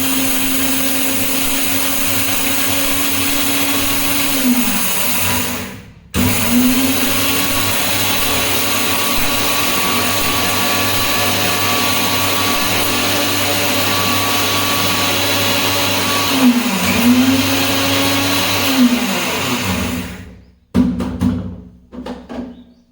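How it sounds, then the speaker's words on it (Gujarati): Electric mixer grinder running steadily while grinding roasted fenugreek seeds into a fine powder, a loud continuous motor whine that stops twice briefly, pitch sagging as it restarts, before cutting off near the end. "આપણે હવે મિક્સર માંડી તો ભાઈ હવે મેથી આપણે દળવા માંડ્યા છે।"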